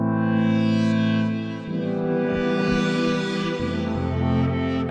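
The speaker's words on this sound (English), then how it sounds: "I'm just gonna add the vintage reverb and put this to gold long" A song in production runs through a vintage reverb effect, sustained distorted tones washing into long echoing tails and loud throughout, with a shift in texture midway and no voice.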